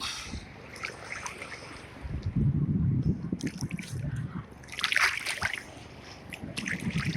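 Sea waves wash and splash at San Fabian beach, rising in two louder surges with trickling water and some wind noise, close by and with no talking.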